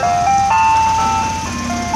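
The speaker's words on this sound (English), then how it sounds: "We have two ice cream trucks." An ice cream truck, an old Chevy van, plays its melodic jingle loudly and close by, a bright looping tune of steady electronic notes.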